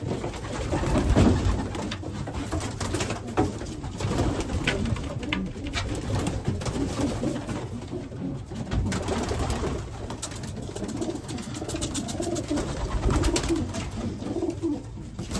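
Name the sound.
racing pigeons cooing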